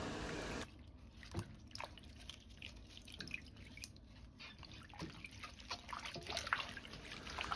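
Green garlic sprouts are rinsed in a basin of water, giving close, soft splashes and drips in an irregular rhythm.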